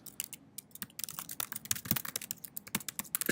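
Fingers type steadily on a computer keyboard in a quick, uneven patter of close, crisp key clicks with short pauses, entering code for an Android SQLite database table.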